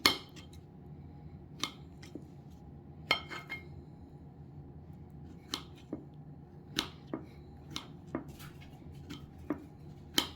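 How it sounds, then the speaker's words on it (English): A knife chopping apples into small pieces on a board, sharp crisp knocks in an irregular rhythm, close and clear with a low background hum and no talking. "I'm just going to cut them into pieces, you guys. Like this. Just chop them."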